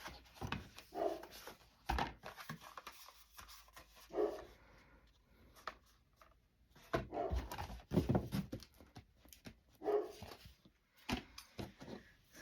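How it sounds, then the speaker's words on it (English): A dog barks in short, irregular bursts spread across the stretch, some barks louder and closer than others, with brief whimpering and faint wooden knocks in between. "there goes my dog barking"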